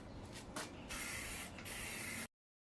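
A paint spray gun hisses steadily as it coats a Mercury outboard motor cowling, in two or three long bursts with brief pauses between them, close and fairly loud before cutting off.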